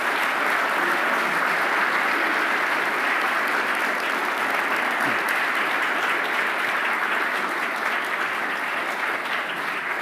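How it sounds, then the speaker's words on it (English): Sustained audience applause at a panel event on AI and chip development, a dense, steady wash of many hands clapping throughout, loud and even with no break. "let's welcome them with a round of applause"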